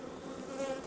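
Soft, close hum of honeybees working inside a beehive, a brief continuous buzz with a faint rising whine.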